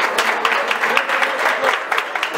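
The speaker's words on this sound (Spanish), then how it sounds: "Pido un aplauso en este momento hasta el cielo para el príncipe de la canción" Audience applause in tribute to a singer at a boxing and wrestling awards ceremony, a steady, moderately loud patter of many hands clapping with no one speaking.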